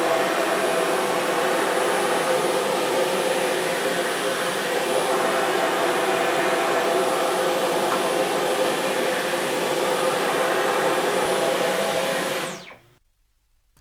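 A Dyson V11 Absolute cordless vacuum cleaner runs with a steady, loud whirring drone and a thin high whine for about twelve seconds, then cuts off abruptly into silence.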